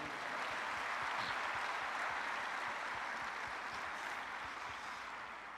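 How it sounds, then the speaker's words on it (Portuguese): Applause from a congregation at a state church congress, a continuous, even roar of many hands clapping at a distance, sustained without pause from start to finish. "você pode aplaudir ao Senhor"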